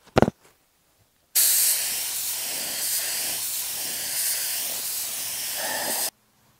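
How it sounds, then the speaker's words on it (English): A paint spray gun with its fluid needle closed down lays a dry mist coat onto the bumper of an F100 truck, a steady loud hissing spray lasting about five seconds after a couple of brief clicks, then stopping abruptly. "try to get some dry spray."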